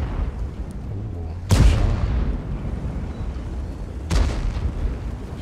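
Tank cannon fire in World of Tanks: two loud, booming shots a few seconds apart, each a sharp blast with a rumbling tail, over steady game background noise.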